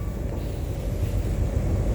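A six-car Transperth Carrington shuttle C-train passes on the line near Burswood, giving a steady, loud low rumble of wheels and motors that holds for two seconds with no voices.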